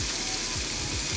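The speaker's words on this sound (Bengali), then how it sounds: "ভালো করে মুচমুচে করে ভেজে নিব" Lotka fish frying until crispy in hot oil gives a steady, dense, close sizzle that holds unchanged throughout.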